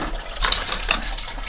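Coolant water drains from a Reliant Scimitar's radiator during its removal, missing the bucket and splashing onto the ground. A steady trickle carries a couple of brief splashy bursts, heard close up.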